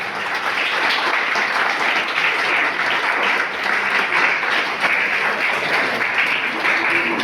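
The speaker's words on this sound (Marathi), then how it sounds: "जोरदार टाळ्या" Sustained dense applause from a crowd at a library hall ribbon-cutting inauguration in a hospital hostel, loud and even throughout without pause.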